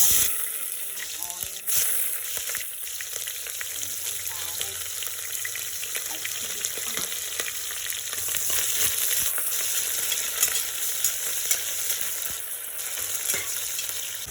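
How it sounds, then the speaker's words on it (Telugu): Ingredients added to hot oil and stirred for mutton masala rice, sizzling and crackling steadily with frequent spoon scrapes and clatters, moderately loud and continuous throughout. "ఆయిల్ హీట్ అయిన తర్వాత ఇవన్నీ వేసుకొని కలిపేసుకున్నాను"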